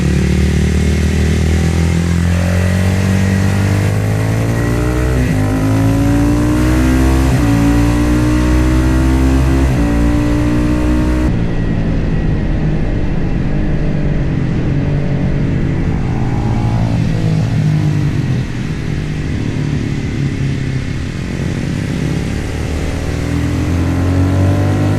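A Manx Norton racing motorcycle at Snetterton. The single-cylinder engine revs up hard through the gears, then settles into a sustained close, loud roar at speed.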